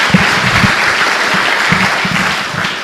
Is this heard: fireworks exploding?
no